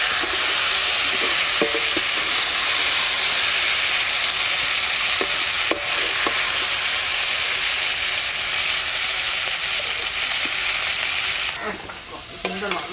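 Potatoes and tomatoes frying in a pan over a village cooking fire, a loud continuous sizzle with intermittent scraping and stirring clatters, the sizzle easing near the end.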